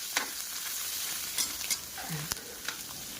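Pork frying in oil in a pan is stirred, a steady soft sizzle with a few sharp scrapes and clicks of the utensil scattered through, close and fairly quiet with no talking.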